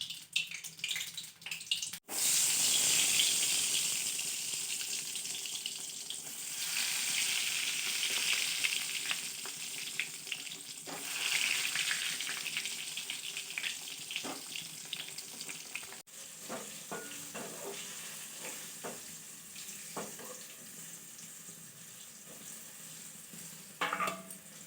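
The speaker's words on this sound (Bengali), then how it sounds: "তো বেগুন পটল ভাজা হয়ে গেল।" Brinjal and pointed gourd fry in a wok, a soft, continuous sizzle with scattered clicks and stirring scrapes, fairly quiet throughout.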